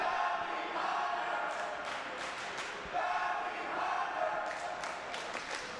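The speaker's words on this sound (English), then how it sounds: "The audience booing." A wrestling audience at a Glory Pro Wrestling show boos and jeers, a sustained roar of crowd voices with swells and short bursts, fairly loud throughout.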